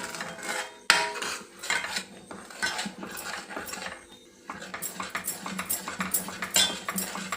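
Gram flour batter being stirred and scraped against a pan over low heat for Mysore pak, a busy run of clinking and scraping strokes, fairly close, with no talk.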